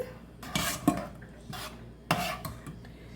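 Salt being stirred into a roasted tomato pizza sauce with a spoon, a few close scraping strokes against the pot with clinks, no talking.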